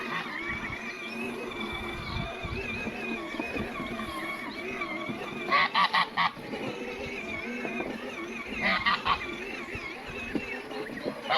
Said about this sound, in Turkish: Bak ördekler var Yiğitan